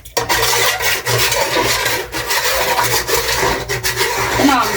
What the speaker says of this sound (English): Now I'm just mixing it.